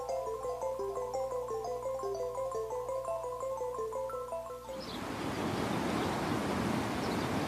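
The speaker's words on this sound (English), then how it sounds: "Consider, for example, this swift mountain stream." Swift mountain stream rushing turbulently, a broad steady roar of flowing water that surges in loud and close after a stretch of synthesized musical tones.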